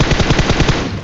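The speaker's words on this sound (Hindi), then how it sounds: "मैं लेट के इस पे फायर करना शुरू कर देता हूँ" Loud, close burst of automatic gunfire from a PUBG match, a rapid string of about eight evenly spaced shots fired from a prone position in one continuous volley.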